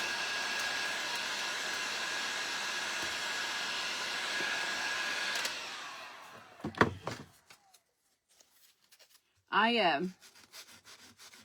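Sandpaper rubs in a steady, scratchy stroke for about five seconds on a dry surface, then a few light knocks and handling sounds follow, and a voice speaks briefly near the end.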